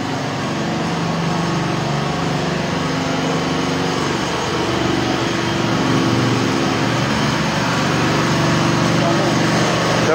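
A convoy of motorcycles rides along a road, with a steady, loud engine drone running without a break throughout.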